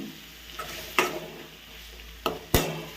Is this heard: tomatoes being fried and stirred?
yes